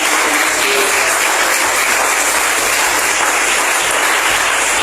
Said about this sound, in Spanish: Brinde un fuerte aplauso